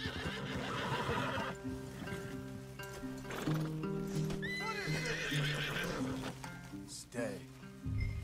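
Horses neigh and snort in Red Dead Redemption 2 while hooves clip-clop steadily, a busy close mix of animal calls and trotting over a low rumbling backdrop.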